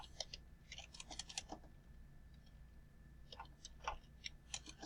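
Someone types on a computer keyboard in quick, irregular bursts of soft clicks with brief pauses between them, close and quiet, and no talking.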